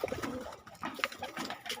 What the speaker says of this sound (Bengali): ব্লাড লাইন ম্যাটরাজি কবুতর আমার বাড়িতে আছে